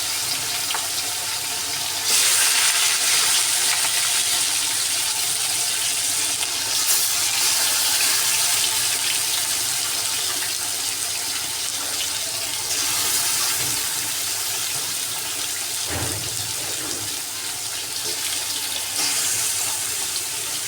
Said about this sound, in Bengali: মাংস তো ভাজা হয়ে গেছে, এখন আমি তুলে নেব। বেশি কড়া করে ভাজি নাই, এই যে এরকম করে ভাজছি।